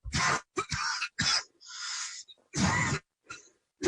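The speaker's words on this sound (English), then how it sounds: "That was a productive cough." A man gives a productive, phlegmy cough in several short, harsh bursts, one after another, with a drawn-out rasp near the middle and brief quiet gaps between, heard close and alone.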